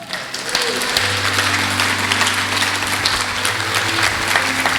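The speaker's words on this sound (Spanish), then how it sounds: "¿Cuántos le dan un aplauso a Jesús?" Church congregation giving a loud, sustained round of applause, many hands clapping densely and evenly throughout, with a low steady tone from instruments or sound system beneath.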